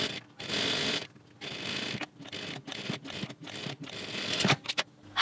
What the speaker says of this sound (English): I'm going to pin it down and top stitch